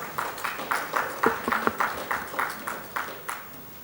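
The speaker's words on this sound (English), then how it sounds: "Let's have another round of applause, ladies and gentlemen" A convention audience applauds to welcome a speaker, a fairly faint, distant patter of claps with rhythmic peaks across a few seconds.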